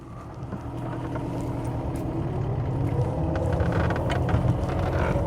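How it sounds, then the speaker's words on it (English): Mercedes-Benz "Stroke Eight" saloon pulling away in first gear, a steady low engine drone with a continuous gearbox whine that builds gradually, heard close from inside the car with no talking. "there's a very characterful whine from the gearbox in first"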